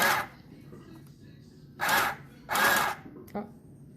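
Sewing machine beginning a stitch on fabric from an old dress, heard as a few short bursts separated by quiet gaps, close by.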